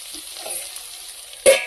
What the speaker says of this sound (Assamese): আন সাইডে আকৌ মই আলু ভাজি আছো